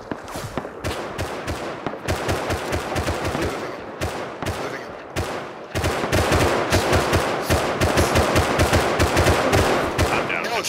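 Gunfire in the online game Rust comes as rapid automatic bursts, loud and dense, with short gaps between strings of shots and faint voices beneath.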